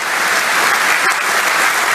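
Dense, steady applause from a large crowd at a political rally in Sunderland, filling the whole span loudly and evenly with no break.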